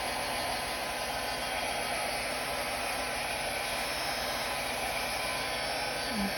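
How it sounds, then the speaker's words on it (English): A blow dryer runs on its cool setting, blowing steadily as a constant airy rush at moderate distance, with a brief faint thump near the end. "I'm gonna grab my blow dryer, and I'm gonna play with both the low and the high setting this time"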